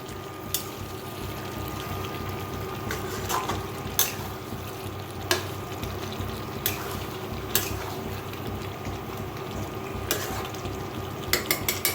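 Dry chicken curry stirred and mixed in a pan on a gas stove, frying sizzle running under intermittent scrapes and clinks of the spoon against the pan.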